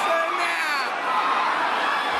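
Black Friday shoppers screaming and shouting as a mob rushes into a store entrance, a dense loud wall of voices with no pause.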